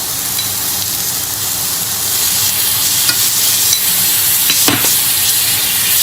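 Japanese mushrooms grilling with barbecue sauce, caramelising and smoking, throw off a loud, close, continuous sizzle and hiss that swells slightly midway, with a brief scrape near the end and no voices.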